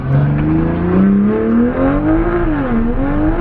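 A 2020 Toyota Supra fitted with a bigger turbo accelerates hard with wheelspin in third gear, its loud, close engine note climbing, dipping briefly, then rising again with no talking.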